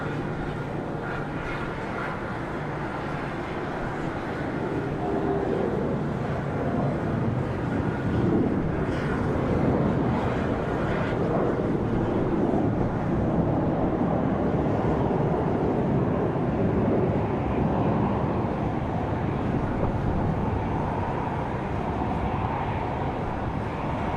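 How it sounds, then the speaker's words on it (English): An Airbus A320 airliner departing Charlotte Douglas International Airport on a windy day, a broad, steady jet roar that holds loud and even throughout, mixed with gusty wind rumble. "Looks like it might be an A320 for departure."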